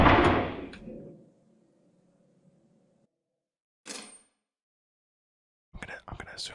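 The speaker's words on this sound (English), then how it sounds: "Yeah, they opened a secure door near me." A secure door opens in the horror co-op game Lethal Company: a loud mechanical rumble at the start fades into a low steady hum, followed later by a brief hiss and then scattered clunks.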